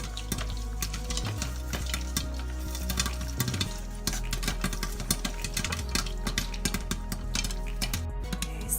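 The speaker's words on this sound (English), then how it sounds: "I'm stirring our butter and brown sugar mixture." A spoon scrapes and clinks steadily through butter and brown sugar cooking in a pot, with a low sizzling bed underneath and bursts of close, busy stirring throughout.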